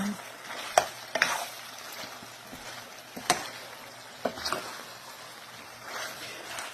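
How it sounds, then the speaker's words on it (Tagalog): Pork ribs fry in their own rendered fat, a soft steady sizzle broken by several sharp clacks and scrapes of stirring, close by and fairly quiet, with no one talking. "i-coat na natin siya para pipirito niya sa sariling mantika"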